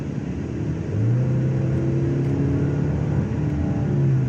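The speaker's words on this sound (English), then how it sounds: "that's the natural sound design. So that's purely the engine making that noise." A 2022 Genesis G80 engine hums steadily and closely with no active sound enhancement, its low drone rising slightly in pitch as it pulls, with no talking over it.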